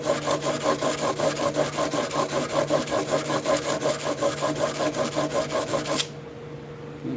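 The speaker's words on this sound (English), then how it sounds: "Good belt sander action." A belt sander grinds along the edge of a wooden hand plane with a steady, pulsing rasp close up, then cuts off abruptly, leaving quiet room tone for the last second.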